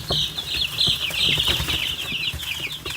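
Baby chicks scrambling and flapping toward the corners of their brooder, a constant high cheeping over busy rustling and fluttering wings, close and continuous.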